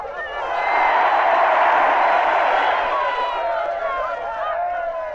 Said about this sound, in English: Here comes Noddy, so give him a big cheer